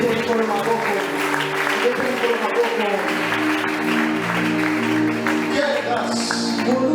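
A church congregation at an anniversary worship service applauds warmly and continuously, a dense steady wash of clapping with some voices mixed in throughout.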